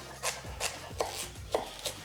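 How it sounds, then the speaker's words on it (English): A knife rough-chops a carrot on a cutting board for tomato basil soup, giving five evenly spaced sharp chops with short scraping tails, close and clear, with no one talking. "why did I just go through so much trouble chopping up this carrot to approximately the same size if we're just going to give it a rough chop?"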